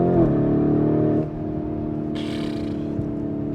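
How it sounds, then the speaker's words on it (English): A Lamborghini Urus engine and exhaust hum steadily while driving on the road, a loud rev that drops into a lower continuous drone, heard close with no talk. "the sound of the engine is that nice, and the exhaust"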